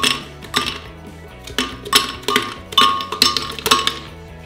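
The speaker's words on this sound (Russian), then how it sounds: "Первым делом сбрасываем в него кубики льда." Ice cubes tumble into a blender jar while making a blue raspberry drink, landing in a series of bright clinks and clatters, roughly a dozen hard knocks spread unevenly over a few seconds with no talking.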